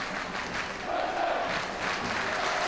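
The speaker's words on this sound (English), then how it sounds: "Rushden fans cheer their team." Rushden & Diamonds supporters roar and chant at the end of an FA Cup tie against Grantham Town in 2000/01. A broad, steady crowd noise carries from a distance, with no single voice standing out.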